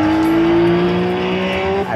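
RUF race car in iRacing, engine droning loud and steady with a strong constant pitch throughout, briefly dipping near the end as if lifting off the throttle.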